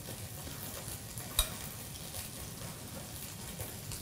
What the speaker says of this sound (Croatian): položimo na tavu da se prži i dodamo drugi dio od ovog